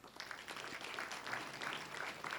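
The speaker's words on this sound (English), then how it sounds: "So please give them a round of applause and thank you." Applause from a small crowd at a fire and rescue training center groundbreaking ceremony, a dense steady patter of clapping lasting a couple of seconds, fairly close, with no talking over it.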